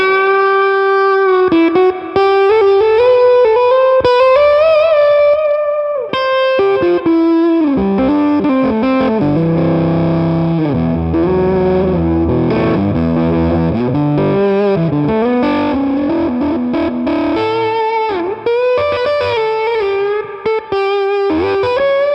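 Electric guitar played through a Jackson Audio Bloom pedal with the boost engaged, loud and sustained with thick modulated, distorted tone, held notes giving way to a busy chordal passage, close and continuous without talk.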